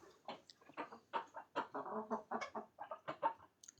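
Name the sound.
chickens clucking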